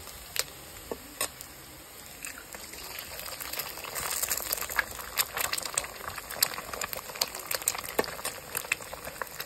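Fried potato and onion sizzle in hot oil in a pan, giving a steady crackling hiss dotted with sharp pops that grows busier in the second half, with no one talking.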